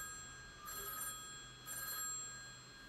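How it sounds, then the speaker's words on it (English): An old-style telephone bell rings twice in short trilling bursts about a second apart, moderately loud and alone in a quiet room. "the phone rang"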